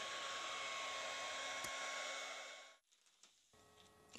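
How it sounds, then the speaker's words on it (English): A heat gun blows steadily while warming a graphite golf club shaft to fit a sleeve, a constant close whooshing roar that cuts off near the end, leaving faint small handling sounds. "Here we're heating about half the shaft."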